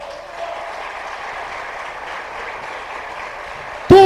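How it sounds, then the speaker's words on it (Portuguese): A church congregation claps in a steady, even wash of applause that sounds somewhat distant, ending in a sudden sharp tonal burst. "Jesus merece uma salva de palmas ou não?"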